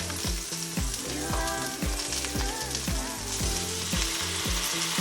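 Turkey bacon fries in a pan with a loud, steady sizzle and crackle, and faint music plays underneath.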